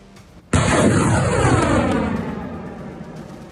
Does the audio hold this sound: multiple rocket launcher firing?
yes